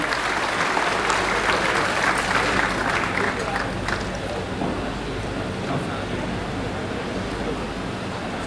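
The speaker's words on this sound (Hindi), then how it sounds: "जोरदार तालियों से स्वागत करें" A large crowd at a railway event in Hatia, June 2015, loudly applauds to welcome Railway Minister Suresh Prabhu: a broad roar of clapping, strongest early and easing slightly, with voices mixed in.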